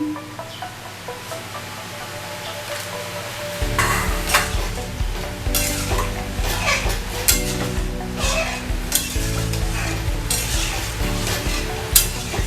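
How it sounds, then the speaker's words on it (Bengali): Salt is stirred into a pan of boiled green mango chutney gravy, with a steady scraping stir over a loud bubbling simmer that picks up and stays busy with clinks and sizzle throughout. "নুনটা গ্রেভিটার সাথে ভালোভাবে মিশিয়ে নিলাম"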